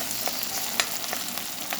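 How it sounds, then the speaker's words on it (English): Bacon and saltfish fry in a pot for a Trinidadian bus-ah-pot dish, giving a close, continuous crackling sizzle with scattered sharper pops and a brief stir or clink partway through. "So we're gonna let her fry this a little bit"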